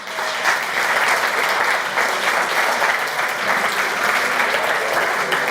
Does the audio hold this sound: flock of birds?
no